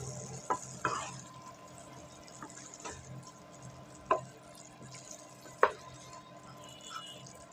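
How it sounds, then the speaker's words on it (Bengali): Shrimp and taro stolon curry being stirred in a pan, with a faint low sizzle and a few sharp spoon clinks and scrapes spaced several seconds apart. "একটু নেড়ে দিব।"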